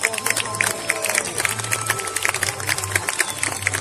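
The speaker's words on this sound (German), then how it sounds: "ein Applaus!" An audience at a Chin Woo kung fu festival in Zürich Oberglatt claps steadily for the masters and students, a dense, continuous patter of many hands with a low hum underneath.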